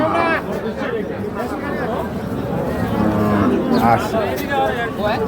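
A desi cow lows at a crowded cattle market, its drawn-out moos rising clearly over a constant babble of voices and bargaining chatter close by.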